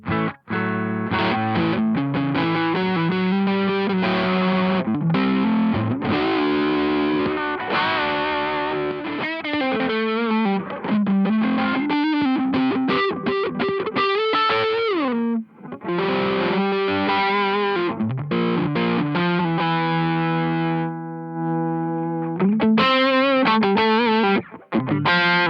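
Electric guitar played through an Oxblood overdrive pedal into a REVV D20 amplifier and a real speaker cabinet: loud, saturated distorted chords and riffs ringing continuously with short breaks, no talking.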